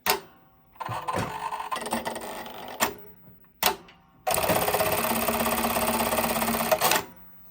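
A Brother KE-430HS-05 heavy-weight industrial bartack sewing machine runs in short mechanical bursts, then settles into a longer steady rattling stitch cycle, loud and close.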